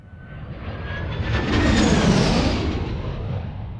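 Engine roar of a luxury jet aircraft, a loud broadband rush that swells to a peak and eases slightly over a few seconds, heard alone without talk.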